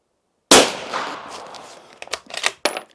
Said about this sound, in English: Let's see how these 150 grain game heads shoot